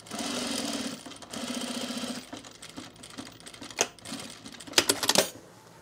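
Close sewing machine stitching along a men's utility jacket from the zipper side, a fast steady run that breaks into short, uneven bursts and clicks toward the end.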